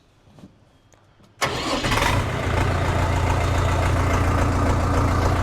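A Fighter TE504 RD mini tractor engine cranks and catches after a second and a half of quiet, then settles into a loud, steady diesel-like idle with a dense rattling rumble.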